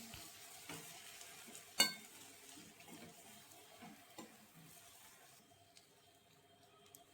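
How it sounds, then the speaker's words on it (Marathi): A spoon stirs purslane vegetable curry freshly mixed with coarsely ground chana dal flour, a soft, continuous scraping and gentle sizzle in a pan, with one sharper knock of the utensil partway through, fairly quiet throughout. "भाजीत घातल्यावर भाजी चांगली मिक्स केली"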